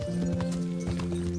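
Horse hooves clip-clopping in the Kingdom Come: Deliverance video game, a steady run of soft repeated thuds under a sustained tonal music bed, close and continuous for the whole moment.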